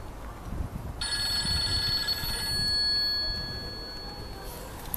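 A telephone rings with a bright, sustained electronic trill that starts abruptly and holds for a few seconds before fading, heard fairly close over faint background noise.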